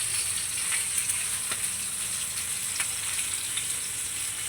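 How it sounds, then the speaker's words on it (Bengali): Onion and green chilli fry in a pan for do piyaza, giving a steady, dense sizzle that holds throughout, with a few faint crackles and stirring scrapes mixed in and no voices. "কাঁচামরিচ আর পেঁয়াজ দিলাম।"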